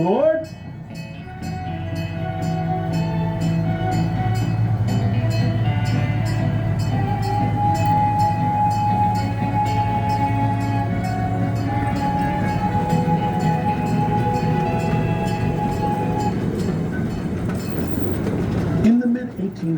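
A heritage train departs at Old Tucson Studios with a loud, continuous rumble and rhythmic wheel clatter held steady for nearly twenty seconds, then cut off abruptly at the end.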